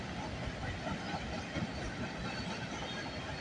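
CN freight train rolling past at night at Bronte Street, a steady dense rumble and hiss of moving cars with faint wheel clatter, continuous and moderately distant.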